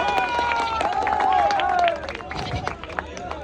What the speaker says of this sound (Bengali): সবাই মিলে একটা করতালি।